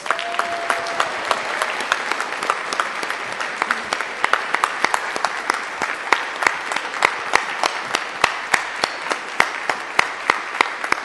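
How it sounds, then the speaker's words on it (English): Audience applause for honorees at an awards gala, a steady, continuous wash of clapping with distinct individual claps standing out, sustained at moderate loudness with no speech over it. "Let's have another round of applause for all of our honorees"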